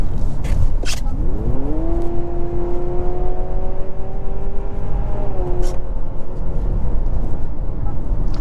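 A 2023 Honda CR-V Sport Touring Hybrid accelerating, its eCVT mimicking gear shifts: a rising engine drone holds steady, then drops in pitch as if shifting, over constant loud cabin and road noise.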